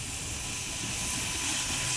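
RC C-17 Globemaster model jet with four electric ducted fans at full throttle outdoors, a steady loud high-pitched roaring whine that swells slightly midway, no voices.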